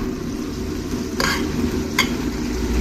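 Chopped tomatoes go into a pan of frying onions for a mutton gravy, with a steady, even sizzle throughout and two brief, bright bursts of spatter and stirring.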